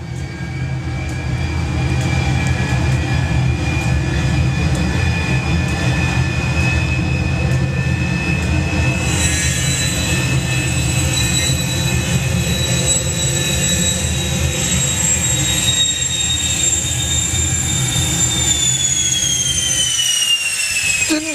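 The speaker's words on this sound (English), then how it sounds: "Didn't sound entirely happy there, actually, that jet." Jet engine of a drag racing vehicle at Bug Jam firing up, a loud sustained roar with rising whine tones that runs steadily throughout, sounding slightly rough and uneven, then cuts out near the end.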